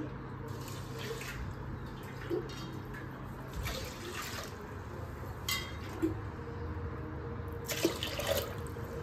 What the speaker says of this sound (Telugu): రైస్ ఉడకడానికి సరిపడా వాటర్ పోసుకోవాలండి.